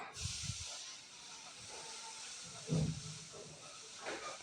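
Cumin garlic paste and turmeric being sautéed in hot oil: a soft, continuous hiss that stays faint and close, with a few low bumps and light stirring sounds.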